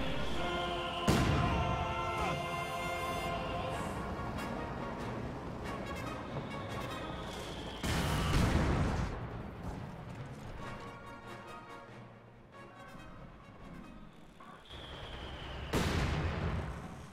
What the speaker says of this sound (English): And another Sherman just gets destroyed by anti-tank gunfire